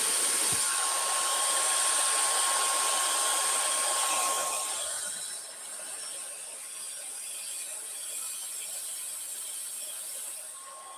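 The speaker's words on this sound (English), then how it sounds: "I'm just going to elevate this with the blow dryer" A blow dryer lifting and drying hair, a loud continuous whirring roar that steps down to a quieter, steady hum partway through and keeps running, with no talking.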